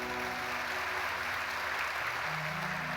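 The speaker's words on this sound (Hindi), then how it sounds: "एक बार जोरदार तालियां इनके लिए" Audience applause at the grand closing of a Shrimad Bhagavat Katha religious gathering, a steady, dense wash of clapping that continues throughout without a break.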